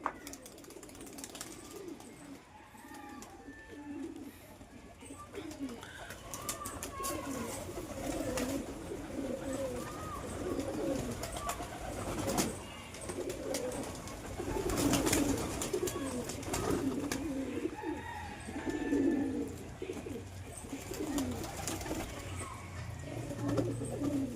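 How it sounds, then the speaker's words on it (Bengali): A flock of pigeons kept for sale coos softly and continuously nearby, overlapping low calls forming a steady murmur with occasional brief rustles. "এই যে কবুতরগুলো তোমাদের দেখাচ্ছি"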